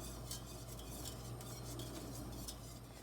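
A spoon stirs a butter sauce of melted butter, milk and pepper in a pot for pasta mac and cheese, making a soft continuous scraping and swishing close by with light utensil clinks and no talking.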